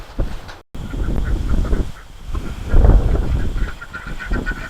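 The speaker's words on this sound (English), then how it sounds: "My ducks are liking it back up in there, but they also like getting out" Domestic ducks in a backyard garden quack and honk in short, uneven bursts, moderately close over steady outdoor background noise, with no one speaking.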